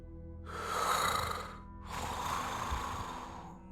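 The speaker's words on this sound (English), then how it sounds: "A heavy breathing apparatus that you can hear as you walk in, even from as far away as you are." A heavy breathing apparatus gives two long, rasping breaths, an inhale and an exhale, each lasting over a second, hoarse and fairly close.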